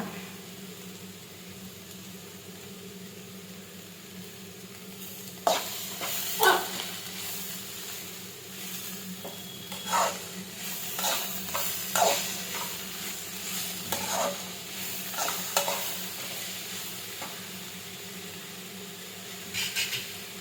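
Egg and cabbage frying in a pan for egg cabbage palya, a low steady sizzle at first, then repeated spatula stirs and scrapes from about five seconds on, close and fairly loud.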